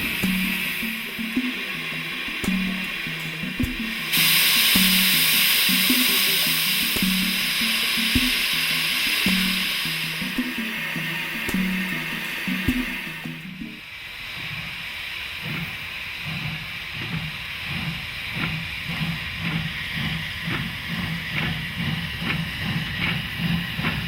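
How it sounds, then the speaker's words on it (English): NG G16 Garratt steam locomotive built by Cockerill in 1937, loud and close, roaring with a steady hiss of steam and rhythmic chuffing beats that quicken as the engine works. "This NG G16 Garrett, built by Cockrell in 1937,"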